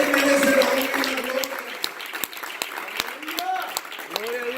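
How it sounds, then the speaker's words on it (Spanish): Applause in a church service, scattered claps alongside cheering, whooping voices and speech, starting loud and thinning into individual sharp claps. "Denle un aplauso al Señor."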